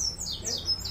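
Capuchin seedeaters (papa-capim) sing at a caged bird contest with 40-plus cages, giving thin, high, repeated warbling phrases over a steady low rumble of crowd and background noise.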